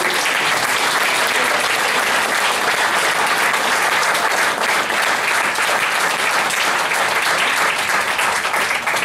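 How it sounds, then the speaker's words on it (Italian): Steady, dense applause from a large audience at a tenth-anniversary event in Ravenna, loud and continuous for the whole stretch with no voices standing out. "Naturalmente un grosso applauso anche alle loro collaboratrici."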